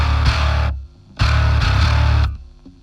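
A distorted bass guitar tone through an amp sim plugin plays two loud, gritty sustained notes, each cut off sharply, with brief near-silent gaps between them.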